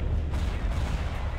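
Corellian gunship rockets firing in the Empire at War space battle, a dense, continuous rumble of booming blasts that stays loud and steady throughout with no clear gaps.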